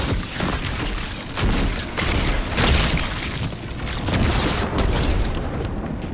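Continuous heavy booming blasts from the Thunderbolt of Zeus mythic weapon in Fortnite Chapter 5, loud, dense rolling explosions and crackling bursts with no pauses.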